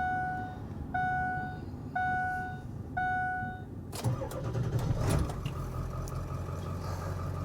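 A 2002 Ford Excursion Limited with a cold 7.3L Powerstroke diesel chimes four times as the key turns, then cranks briefly and fires up into a rough, loud, clattering idle close by.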